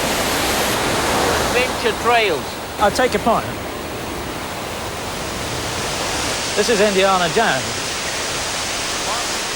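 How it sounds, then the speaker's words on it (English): A man-made river thunders down concrete canyons at a huge artificial resort, its water pumped back up the mountain. A steady, loud broadband rush fills the whole clip while someone talks briefly over it. "Rivers thunder down into concrete canyons and are then pumped right back up the mountain"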